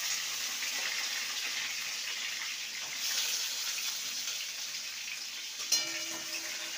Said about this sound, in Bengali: এবার পটলগুলোকে ভেজে নেব। আমি সর্ষের তেল দিয়ে করছি